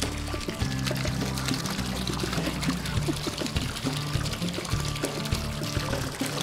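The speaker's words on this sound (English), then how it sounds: "that's a lot of water that just came out of that" A large gush of water pours out steadily and loudly for several seconds, a continuous rushing splash with faint voices underneath.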